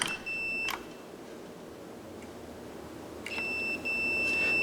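Continuity beep from a multimeter while testing wiring for a motorized bead roller in a workshop: two short, bright electronic tones, one early and one longer near the end, over steady background hiss.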